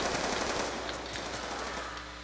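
Gunfire from Black Ops 2 on Wii U rattles in a continuous, somewhat distant stream of quick shots under steady game noise, with no talking.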